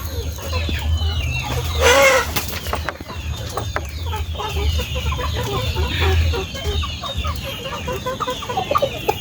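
Chickens cluck and chatter continuously inside a netted range pen, birds over two kilos, with a louder burst of calls near the start and steady fowl noise throughout, no speech.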